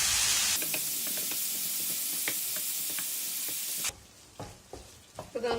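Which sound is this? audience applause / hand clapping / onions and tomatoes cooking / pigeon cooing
onions and tomatoes cooking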